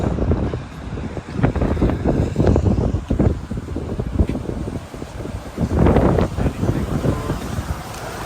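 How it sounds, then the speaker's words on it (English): Strong wind buffets the microphone in loud, irregular gusts during rainy, stormy weather beside a car, with rumbling bursts swelling and fading over several seconds. "It's so windy and it's raining"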